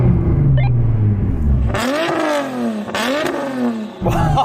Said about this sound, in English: I'm going to rev up this beast of a machine